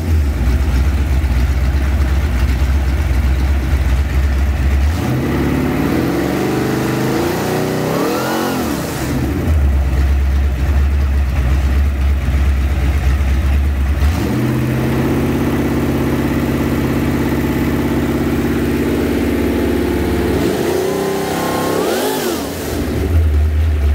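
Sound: 347 Ford V8 engine in 1965 Mustang convertible starting and revving

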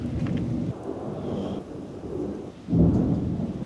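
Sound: thunderstorm with rain

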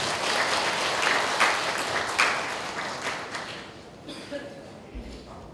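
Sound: audience applause welcoming regional heads

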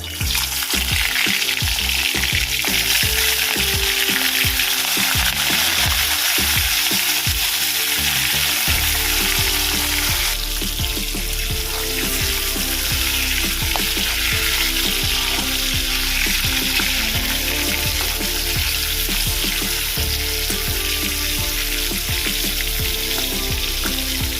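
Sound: prawns frying lightly in hot oil in a wok

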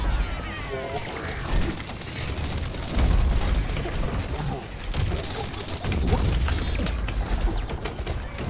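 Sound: explosion in the video game Plants vs Zombies: Garden Warfare 2

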